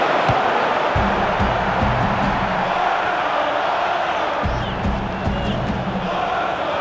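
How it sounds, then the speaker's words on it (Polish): Stadium crowd noise from the soccer video game FIFA 06: a loud, continuous roar of cheering fans with rhythmic chanting bursts rising and falling throughout. "Brawa dla obrony."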